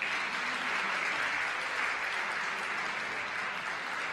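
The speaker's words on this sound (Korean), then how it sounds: "오늘 모든 출연진들을 위해서 다시 한번 뜨거운 박수 부탁드립니다" Audience in a church sanctuary giving warm applause to performers at an 80th-anniversary homecoming event, a dense, steady wash of clapping throughout, moderately distant and without talk.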